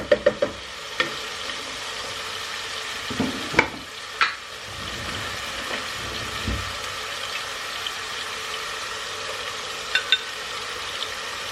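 Tomato sauce and paste sizzling in a pan, a continuous close bubbling hiss broken by a few sharp spoon clinks and scrapes as it is stirred.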